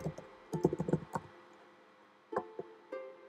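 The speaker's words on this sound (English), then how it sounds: "I hate typing players' names." Typing on a computer keyboard, a quick close burst of clacking keystrokes, a pause, then a few scattered single key taps, with no one talking.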